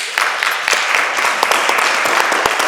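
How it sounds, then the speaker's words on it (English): A person claps their hands in a quick, uneven run of sharp claps, close and fairly loud, with a murmur of voices behind, at a gathering about planting live oak trees with local volunteers in Grand Chenier, Louisiana. "I don't know why I'm clapping."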